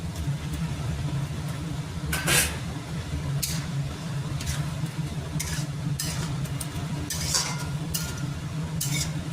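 Chicken and potatoes being stirred and fried in a pan: a steady low sizzle under repeated scraping strokes of a utensil, arriving in irregular bursts.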